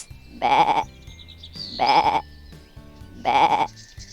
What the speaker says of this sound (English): There are sheep